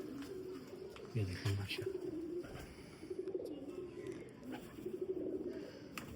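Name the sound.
pigeons cooing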